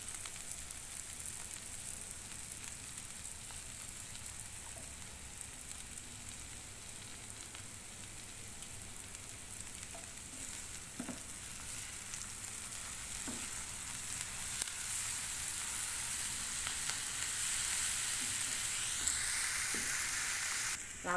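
Mie goreng noodles sizzle and fry steadily in a wok just after soy sauce goes in, a continuous close hiss with faint stirring scrapes and no talking.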